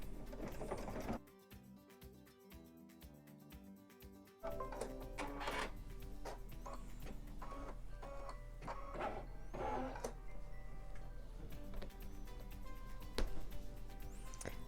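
An embroidery machine stitches a zipper pouch held in its hoop, a steady rapid mechanical chatter that runs loud and close through the whole stretch, with a brief quieter rhythmic patch early on.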